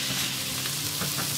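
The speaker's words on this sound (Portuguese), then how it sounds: "Eu dei uma ferventada na linguiça e cortei em rodelas. Vamos deixá-la fritando aqui." Boiled sausage slices frying in a pan make a dense, continuous, close sizzle that holds steady throughout.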